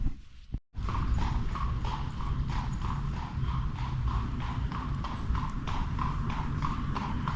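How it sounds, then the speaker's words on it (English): Horse-drawn carts roll through a small town as hooves clip-clop on pavement in a steady, even rhythm, close and continuous after a brief gap at the start, with no voices. "the carts and a horse going through town"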